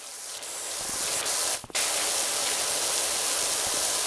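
A power washer in the video game PowerWash Simulator 2 sprays a steady, loud hissing jet, briefly cutting out once before resuming, with no talking.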